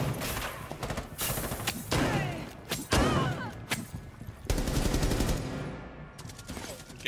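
Guns fire in a Rainbow Six Siege search and destroy match: sharp, loud bursts and single shots crack irregularly through the scene, with rapid volleys clustered together and brief pauses between.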